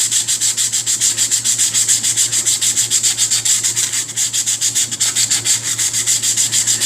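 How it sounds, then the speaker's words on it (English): Steady rhythmic wet-sanding strokes of sandpaper on a plastic model part scrape back and forth, quick and even, close by with a faint low hum underneath. "I do wet sanding, and I just start sanding."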